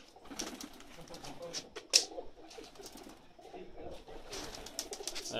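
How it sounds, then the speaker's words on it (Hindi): Flying pigeons, a Punjabi flying breed, coo softly several times in a quiet loft setting, with a sharp click near the start and a faint rustle of wings. "ये जेठ च उड्डण वाले कबूतर हैं जी"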